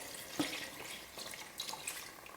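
Water from a cup rinsing out a mixer jar and poured into a simmering pot of mutton curry, a soft, faint splashing trickle with scattered drips, heard alone without talk.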